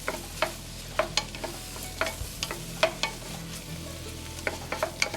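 A spoon stirs butter, mushrooms and flour in a hot pan, giving soft, irregular scrapes and clacks over a gentle, steady sizzle, close by with no talking.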